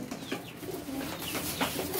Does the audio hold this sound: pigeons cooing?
yes